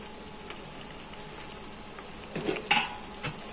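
Soya potato chilli being mixed in a pan at home, with a few sharp metallic scrapes and clinks of a spoon against the pan over a faint background, louder toward the end.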